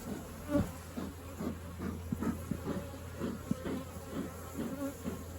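Honeybees at an opened beehive, with smoke puffed over the frames, give a steady, dense buzzing swarm hum, close and continuous with small swells throughout.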